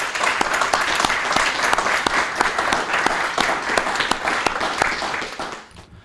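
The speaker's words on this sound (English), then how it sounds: "let's give our distinguished athletes, triathletes, and academic all-state athletes a round of applause." Steady audience applause at a high school senior recognition ceremony, honoring athletes, triathletes and academic all-state students; dense, continuous clapping for about six seconds that thins and fades near the end.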